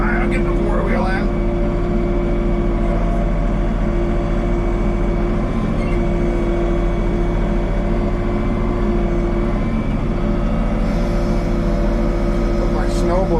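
A four-wheel tractor strains under a heavy load raised high, its engine holding a loud, steady low drone throughout with constant mechanical hum and no pauses.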